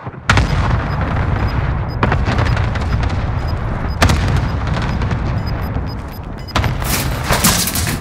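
Cluster strike explosions from the Warzone video game, a dense run of booms and gunfire-like cracks that rolls on steadily with sharp bursts at intervals, loud and close, with no talk over it.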